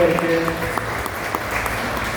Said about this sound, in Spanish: Quiero pedirles un aplauso para los papás que están aquí